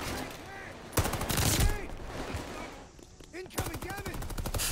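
Rapid automatic assault rifle fire in the shooter Call of Duty Vanguard, loud bursts of rattling shots with short pauses between them, heard over game effects.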